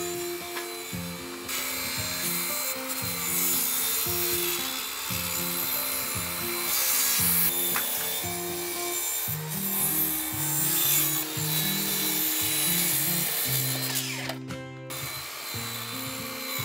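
Wooden roof boards on a handmade woodshed being cut to length at the eaves, a steady rasping saw stroke repeating closely throughout with a brief sharper burst near the end.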